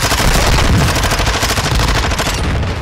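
Loud, continuous gunfire in a video game, a dense rattling stream of pistol shots and other weapons blending into a near-constant barrage with no talk over it.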